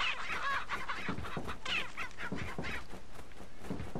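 Chickens cluck steadily in Resident Evil 4, a dense run of close, rhythmic clucks and squawks with no one talking over them.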